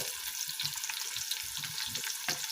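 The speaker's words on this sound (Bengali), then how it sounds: "এখন আমি কড়াইতে পেঁয়াজটা দেব" Onions going into hot oil in a wok hiss with a steady, close sizzle, broken by a few soft low knocks and clatters, with no one speaking.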